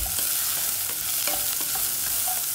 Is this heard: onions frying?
yes